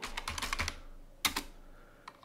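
Code is typed on a computer keyboard in a quiet room: a brisk burst of soft clicking keystrokes, a short pause, then a sharper cluster of taps and a few isolated key presses, close and fairly faint.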